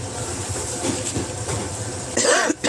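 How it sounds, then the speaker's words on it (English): A person coughs a few times over steady room noise, with a louder rough burst near the end, and no talking. "And I don't like to cough"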